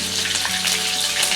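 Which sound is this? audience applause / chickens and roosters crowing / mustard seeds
mustard seeds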